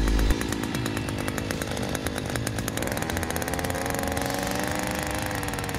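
A Hyundai HYEA5080 earth auger's petrol engine catches with a sharp start, sputters and then settles into a steady, buzzing run, heard close and alone.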